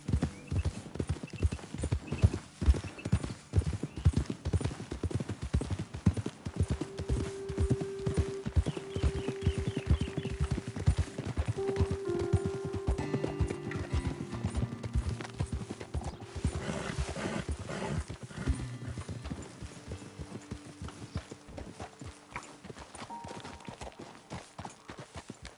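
Horses in Red Dead Redemption 2 walk along steadily, their hooves clip-clopping in a continuous rhythm, with a whinny partway through.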